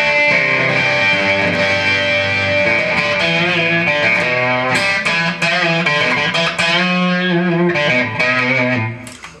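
An electric guitar through a Zoom G5 Deluxe Reverb patch into a solid-state Crate amp plays a sustained chordal riff with a warm, reverb-soaked tone, continuous and loud, then fades out at the end.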